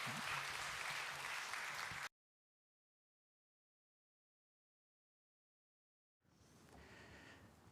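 A church congregation applauds during a Sunday service: a loud burst of many clapping hands, then a sudden gap of silence, then a softer second round of applause.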